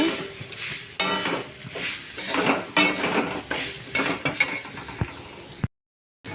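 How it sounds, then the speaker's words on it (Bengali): Metal spatula scraping and clinking against a pan while coconut and banana pieces fry for a palm-fruit kheer, a steady busy rattle of stirring strokes, close and fairly loud, with no talk. "নারকেল কলাটাকে একটু ভেজে নিব"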